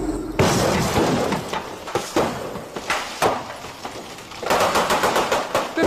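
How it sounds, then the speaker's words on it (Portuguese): Special-effect explosions go off on a TV production set for a shopping-mall blast scene, a rapid chaotic series of loud cracking bangs and rumbling blasts, close and dense, with a burst of quick pops near the end. "Vai ser detonada a primeira explosão."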